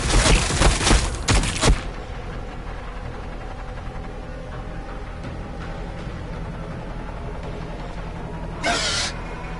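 Gunfire in the Warhammer 40k Battlesector video game: a rapid burst of loud shots crackles at the start, then a low rumbling battle ambience carries on, with another short volley near the end.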